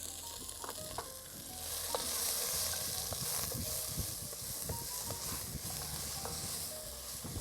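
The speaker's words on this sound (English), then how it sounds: "So in the pan here, red onions, garlic, chilli and ginger." Red onions, garlic, chilli and ginger fry in a pan with a continuous close sizzle, while a utensil stirs and scrapes the pan in irregular clicks throughout.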